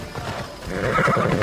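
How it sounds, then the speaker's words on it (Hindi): A horse whinnies loudly and its hooves clop along in Assassin's Creed Odyssey, the neigh rising over steady rhythmic hoofbeats close up. "उससे पहले मेरा घोड़ा पहुंच जाता है"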